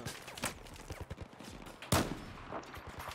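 Gunfire in the video game Battlefield 4, a dense run of rapid shots with one sharp, loud burst near the middle, close and continuous throughout.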